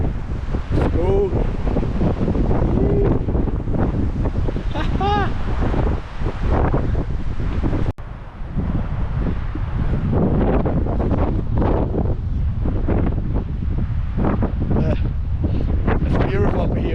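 Strong wind roars steadily across a microphone high on a mountain in the San Bernardino National Forest, heavy and continuous buffeting throughout, with a voice speaking briefly over it.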